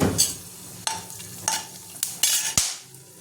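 Whole garam masala spices, cardamom among them, fry in hot oil for biryani, with bursts of sizzling and sharp clinks and scrapes of a spoon stirring the pan.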